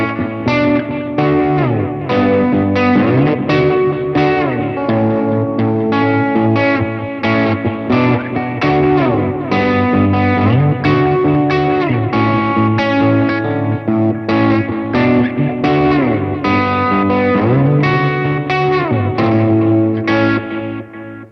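Electric guitar played through a Fender Tone Master Pro preset, a steady distorted and effects-heavy tone with chorus-like shimmer and echo, loud and continuous with sustained chords and melodic lines, no talking.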